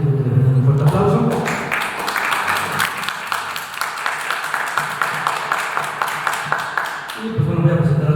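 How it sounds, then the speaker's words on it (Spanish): Audience applause for a guest at a book presentation, a dense wash of many hands clapping for several seconds, with a speaking voice at the start and again as the clapping dies away. "Nuevamente les pido que le den un fuerte aplauso"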